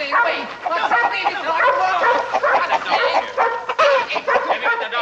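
Dog barking and yipping excitedly indoors in a 1959 western ranch setting, several sharp, close barks mixed with whimpers, heard over people's raised voices talking.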